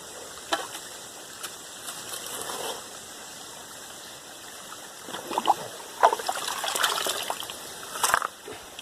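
Gray clay being panned in water, heard as faint, intermittent sloshing and trickling with a few louder splashes near the end.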